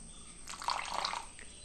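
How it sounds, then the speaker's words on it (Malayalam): A short, soft trickle of water is poured into bread pakora batter made with gram flour, rising briefly for about a second in an otherwise quiet kitchen. "കുറച്ചും കൂടി വെള്ളം ഒഴിച്ചാണ് കേട്ടോ"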